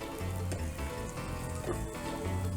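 A spoonful of garlic paste sizzles and fries in a hot pan with oil, a steady close crackle with no voices over it.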